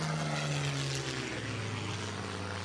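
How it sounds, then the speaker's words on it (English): Propeller airplane droning in flight in Shadow of the Tomb Raider, with a steady engine hum and a pitch that slowly drops, continuous and fairly loud with no voices. "Here we got the airplane."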